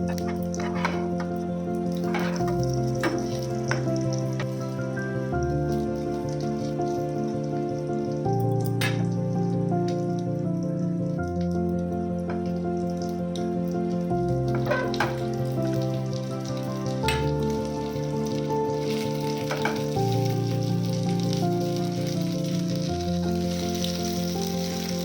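Two evening tiffin snacks frying in a small amount of oil in a pan, a continuous soft crackling sizzle with scattered pops, running steadily under sustained background music.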